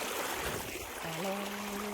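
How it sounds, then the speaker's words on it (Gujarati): Water from two opened irrigation valves flows in a steady rushing wash across a pearl millet field, with a brief low humming tone rising over it partway through. "બે વાલ ખોલી નાખ્યા છે"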